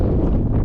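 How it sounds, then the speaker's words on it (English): Strong wind buffets the microphone at a rural cemetery outside New Braunfels, a loud continuous low rumble with no break and no speech. "It's kind of windy today."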